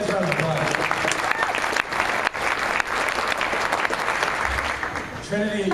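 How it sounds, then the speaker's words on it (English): A school concert audience applauds a seventh-grade band member who does gymnastics, with steady, dense clapping filling nearly six seconds and brief voices and whoops at the start and end. "give her a nice round of applause"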